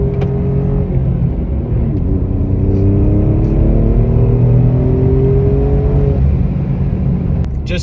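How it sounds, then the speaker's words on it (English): Alfa Romeo Giulia QV engine and exhaust drone loudly while driving, a steady rumbling note that rises through the gears with a brief dip between shifts, heard from inside the car. "Just hearing the exhaust of this car already knows that you're driving a real driver's car"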